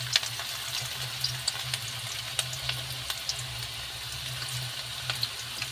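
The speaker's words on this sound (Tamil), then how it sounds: "இப்போ செகண்ட் ட்ரிப் அதே மாதிரி போட்டு ஃப்ரை பண்ணி எடுத்துக்கலாம்" Chicken pakoda pieces deep-fry in hot oil with a steady, dense sizzle and many small crackling pops throughout.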